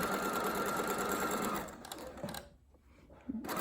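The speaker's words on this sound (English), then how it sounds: "I'm going to stitch down this side" A sewing machine stitching a straight seam runs fast and steady with a close whirring buzz, then slows and stops, leaving brief clicks of the mechanism.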